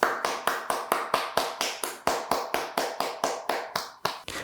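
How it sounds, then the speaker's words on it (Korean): A church congregation at a Sunday worship service claps in a steady, unified rhythm of about twenty sharp claps, close and even, then stops without talk. "우리 하나님께 영광과 감사의 박수를 올려드리겠습니다."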